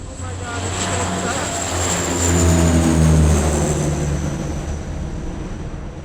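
A loud propeller aircraft engine drones and swells to a peak as the plane takes off from an island airstrip, then gradually recedes as it moves away.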